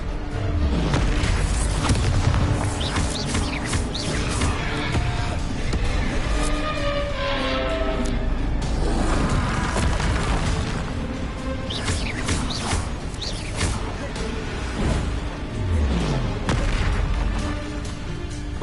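Repeated Bombarda spell explosions in the video game Hogwarts Legacy, with loud booms and crashing bursts going off one after another throughout a dense, noisy combat scene.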